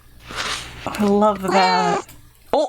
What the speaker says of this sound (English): Now that was a cat noise.